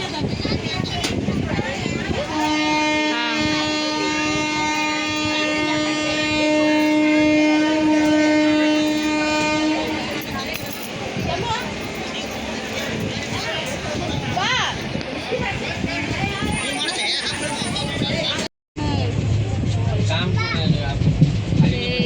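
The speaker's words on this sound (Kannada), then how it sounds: "ಈಗ ಬಂತು ಟ್ರೈನ್ ಹತ್ತಿದ್ವಿ ಎಕ್ಸ್ಪ್ರೆಸ್" Express passenger train noise rumbles throughout, with a long sustained horn blast early on, clattering and rattling of carriages, and occasional voices in the background.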